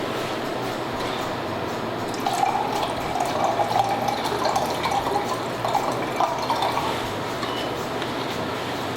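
Wine pours from a bottle into a glass during table service, a soft, steady liquid trickle swelling midway over a noisy room hum, with faint voices in the background.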